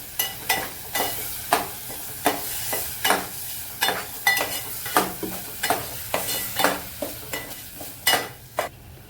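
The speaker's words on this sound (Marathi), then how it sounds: "चांगलं तेलावरती आता परतून घेणार आहे तेल सुटेपर्यंत" Masala with coconut sautéed in oil in a pan on a home gas stove, steady close sizzle broken by regular scraping stirs about once a second, each stroke a bright rasp over the continuous frying hiss.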